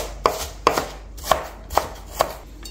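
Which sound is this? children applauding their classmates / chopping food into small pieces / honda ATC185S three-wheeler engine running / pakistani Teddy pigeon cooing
chopping food into small pieces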